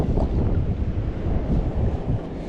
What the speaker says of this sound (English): Little on the windy side, a little bit of breeze so far